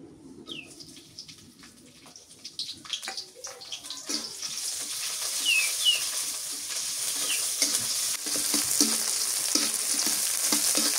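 Leafy greens are stir-fried with green chillies and garlic in a pan of oil, the sizzle starting soft and growing into a steady, close crackle with scraping stirs.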